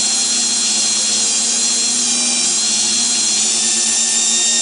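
Power tool spinning steadily to polish a metal axle, a constant high whine held close and loud for the whole stretch with no pauses and no talking.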